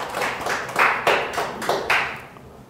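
A congregation at a Sunday worship service claps together in loose, rhythmic bursts, with several distinct pulses of clapping before it trails off into quiet.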